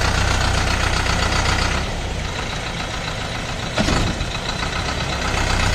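A YTO tractor engine runs steadily up close in Pakistan, a loud continuous rumbling idle with a knocking texture and a brief surge partway through, with no talk.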